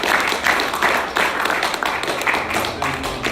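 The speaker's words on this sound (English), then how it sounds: "Go ahead and give him a round of applause." Audience applause in a hall at a religious gathering, steady dense clapping filling the whole stretch with no clear gaps, fairly loud and close.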